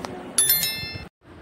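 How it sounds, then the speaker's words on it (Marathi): Bell notification sound effect, a couple of bright quick dings with ringing overtones, loud and close, cutting off abruptly into brief silence. "आजच आमचा MH29 मीडिया या चॅनलला YouTube वर सबस्क्राइब करा आणि बेल आयकॉनला प्रेस करा"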